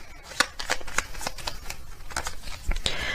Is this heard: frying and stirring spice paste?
no